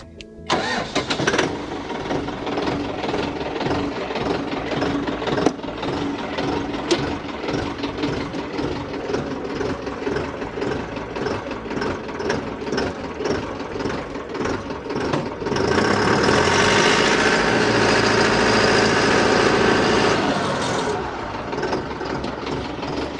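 A tractor engine cranks and starts, then settles into a steady idle that swells louder for a few seconds before easing back, heard close with no talk.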